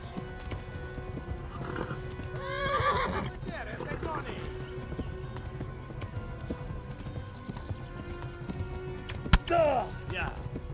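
Horse hooves clip-clop at a steady gallop in the medieval RPG Kingdom Come: Deliverance, with a loud whinny near the end, set against in-game ambience and someone talking over it.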